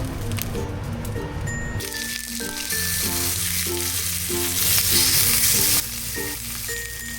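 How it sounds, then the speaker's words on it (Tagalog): Fried rice and sunny side up eggs frying in a pan, a loud continuous crackling sizzle that holds steady throughout, with a tonal background hum and no talk. "Magpa-fried rice ako at sunny side up para kay Johan"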